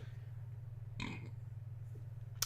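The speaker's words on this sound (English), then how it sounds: "Why am I burping so much?" A single short burp lands about midway, close and fairly loud, over a steady droning hum from a game playing during a casual livestream.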